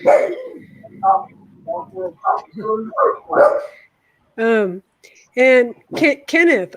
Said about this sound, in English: You don't need to bark at everybody going by.